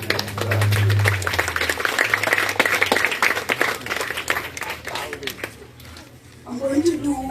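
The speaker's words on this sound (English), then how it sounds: "Let's give him a round of applause." An audience claps and cheers at a Carib Santa Rosa First People gathering for the International Day of the World's Indigenous Peoples. The dense, steady applause runs for several seconds, with voices mixed in.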